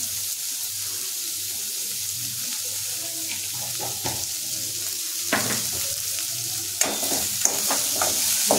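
A spoon stirs cluster beans and potato bhaji in a sizzling pan. A constant frying hiss sits under intermittent scraping and clinking strokes that grow busier toward the end, heard up close with no voices.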